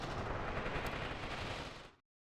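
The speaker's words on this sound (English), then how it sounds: "It's just a machine gunner that's able to perform this kind of firing." Machine gun fire in the video game Mius Front, a dense, continuous roar of rapid shots lasting about two seconds before cutting off abruptly to silence.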